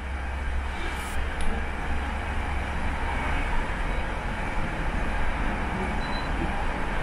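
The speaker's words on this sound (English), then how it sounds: "So I'm on the train." Steady low rumble and broadband rolling noise of a moving train interior, continuous throughout with no talking.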